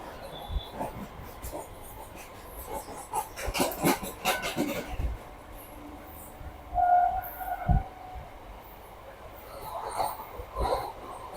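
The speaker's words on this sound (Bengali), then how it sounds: "এই আমাদের ট্রেনটা এখন বিধাননগর স্টেশন ছেড়ে দিল" Kolkata circular rail train pulling out of Bidhannagar station, with rattling carriage noise and clunks of wheels over track joints, faint to moderate, with brief squeals and passenger sounds around it.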